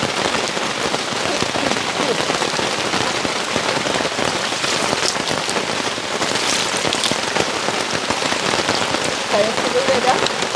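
Heavy rain pouring steadily on outdoor surfaces, a dense loud hiss of drops that holds without break for about ten seconds.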